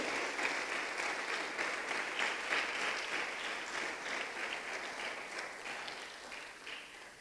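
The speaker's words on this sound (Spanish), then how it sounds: "Démosle una ofrenda de palmas al bendito Rey esta mañana" A church congregation claps in steady rhythmic applause for several seconds, a dense wash of many hands heard in a room that fades slightly toward the end.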